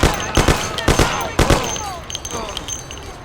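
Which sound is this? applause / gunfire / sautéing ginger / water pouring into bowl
gunfire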